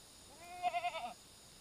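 A single goat from a herd gives a short, wavering bleat, faint and fairly distant, against a quiet background.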